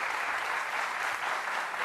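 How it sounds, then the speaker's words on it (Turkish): Studio audience applause on the Turkish quiz show Kim Milyoner Olmak İster, sending off a departing contestant: steady, dense clapping that fills the room evenly for a couple of seconds with no voices over it. "Sizi alkışlarla uğurluyoruz"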